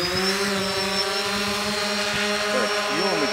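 Xiro drone lifting off, a steady rotor whine and hum with strong tonal harmonics running throughout, close and fairly loud, with a slight pitch shift as it climbs.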